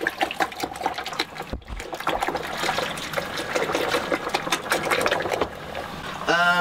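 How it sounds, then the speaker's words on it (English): About 6.5 kilograms of grain stirred slowly into water for an all-grain beer mash, making a continuous wet sloshing and trickling sound with a rough, busy texture throughout. "A nice, deliberate, slow mash to make sure that you don't end up with any dry clumps in there."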